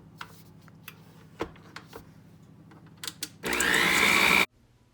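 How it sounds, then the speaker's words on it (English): Banana mashed with brown and granulated sugar in a mixing bowl, first a scatter of light scraping and tapping clicks, then a loud, steady electric mixer whir that runs about a second before cutting off abruptly. "Now I'm adding the brown sugar, the granulated sugar, and we're gonna mix that"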